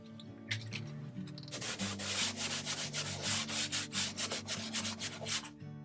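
Rag rubbed back and forth over stained wood with acetone, a steady series of close, rhythmic scrubbing strokes, loud and brisk.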